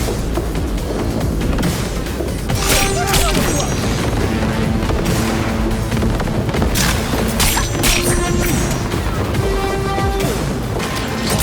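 Gunfire aimed at a turret during a firefight in Cyberpunk 2077: loud, sustained shooting with repeated sharp bursts and crashing impacts over a constant dense battle din, with shouted voices mixed in.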